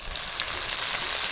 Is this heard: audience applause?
no